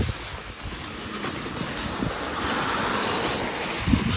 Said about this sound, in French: le vent est dans notre visage depuis le début